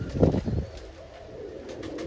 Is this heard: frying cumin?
no